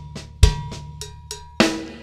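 Drum kit playing an inverted paradiddle funk beat, with sharp hi-hat ticks and two heavier kick-and-snare hits standing out, a short, crisp pattern heard alone up close.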